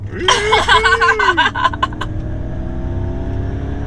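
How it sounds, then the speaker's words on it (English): A Ford Mustang Mach-E GT electric SUV accelerating hard from a stop, its rising electric motor whine sweeping upward under excited laughter and exclamations from people inside, then settling into a steady cabin hum. "Oh, listen to that hum."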